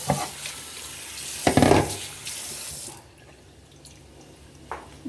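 Tap water runs into a kitchen sink while pot lids are rinsed, a steady splashing stream with a louder clattering burst midway, then fading to a quiet room with a faint knock near the end.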